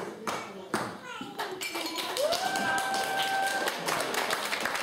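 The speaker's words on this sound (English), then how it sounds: "Ladies and gentlemen, a big round of applause." Wedding guests at a reception break into applause, a run of sharp, uneven claps and taps, with a bright ringing tone and voices mixed in.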